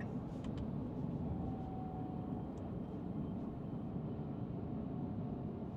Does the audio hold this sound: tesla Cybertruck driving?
yes